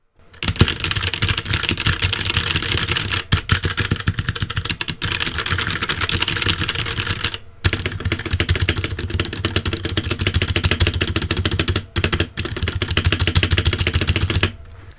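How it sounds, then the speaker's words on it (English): Fast, steady typing on an Epomaker S68 mechanical keyboard with linear switches, loud and close, a continuous run of keystrokes broken by a few brief pauses. "I'll do a sound test right now so you can hear what the keyboard sounds like"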